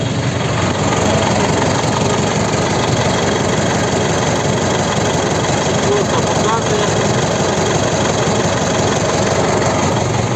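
A diesel engine on a hydraulic machine idles steadily just after starting, loud and close, as one continuous even rumble that holds unchanged for the whole stretch.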